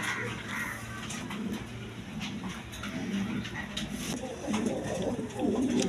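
A pair of fancy pigeons coo in low, repeated throaty calls under a person talking nearby, with some background chatter.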